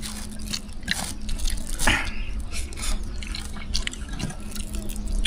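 River water running steadily near a forest cooking spot, with a continuous wash of flowing and dripping sounds, a low steady hum and an occasional sharper splash.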